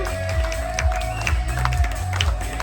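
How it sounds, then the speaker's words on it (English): An audience in the Vista Lounge aboard a cruise ship claps and cheers on the first day of the cruise, steady scattered applause under loud background music and crowd noise. "Come on, see, clap your hands, come on"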